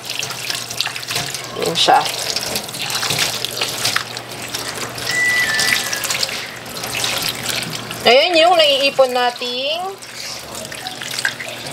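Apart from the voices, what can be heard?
tap water running while rinsing printer waste ink pad foam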